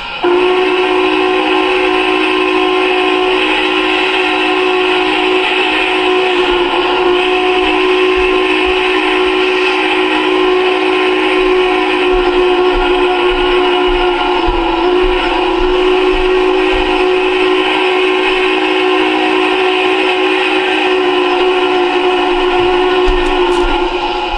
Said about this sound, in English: that was all the crossing sound